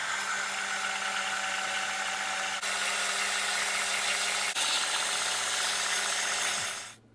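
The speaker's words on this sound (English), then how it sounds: "So now I'm going to sand this down, this one and this one, just to get a straight edge" A power sander working the edge of a wooden guitar headstock, a loud continuous grinding whir close up with a couple of brief dips, winding down at the end.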